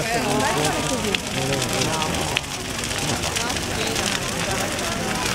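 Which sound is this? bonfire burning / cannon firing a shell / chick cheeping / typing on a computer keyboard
bonfire burning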